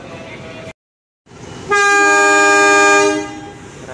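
At Jatinegara station, the Serayu passenger train sounds a loud, close horn blast lasting over a second, after a brief silence, with station rumble before and after.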